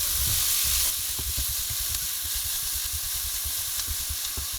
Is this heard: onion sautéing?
yes